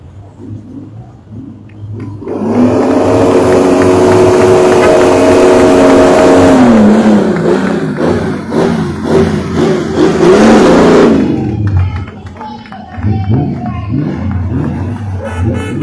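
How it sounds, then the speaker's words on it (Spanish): A Lancia and a Lotus 7 pass at the symbolic start of a regularity rally. Engines rise from a low idle into a loud, close, revving roar for several seconds, then fall away into street ambience. "acá viene el Lancia, Lotus 7, miren lo que es el Lotus 7"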